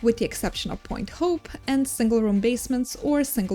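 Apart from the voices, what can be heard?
None of the usual background noises is heard.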